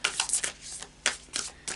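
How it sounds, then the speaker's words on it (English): A deck of oracle cards is shuffled by hand at close range, giving quick papery riffles and flicks in short uneven bursts with no talking. "I think I'm going to just do a final shuffle."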